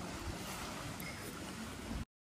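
Sea waves wash in at a clear-water beach, a soft broad rush of surf mixed with wind noise that runs steadily and then cuts off abruptly.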